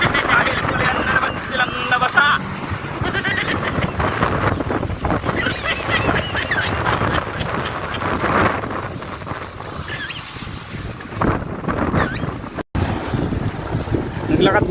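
Strong wind buffets the microphone in a continuous loud roar, with gusty swells and brief dropouts throughout, near and dominant with no clear voices.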